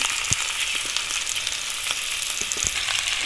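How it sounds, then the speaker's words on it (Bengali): Steady, bright sizzling of ginger frying in hot oil, with a few soft stirring knocks, continuous and close throughout. "আদাটাও এর সঙ্গে ভাজা হয়ে গেল সামান্য একটু এভাবে"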